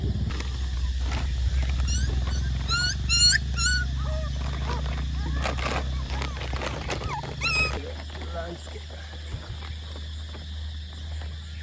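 A young puppy whimpers and cries in high, wavering yelps, several short bursts in a row, under a steady low hum and a person talking softly nearby.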